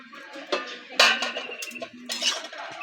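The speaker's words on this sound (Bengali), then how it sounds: "ঢাকা খুলে দেখে নেব" A lid lifted off a pot of boiled dal, with a few metallic clanks and clinks of the lid against the rim over a quiet background.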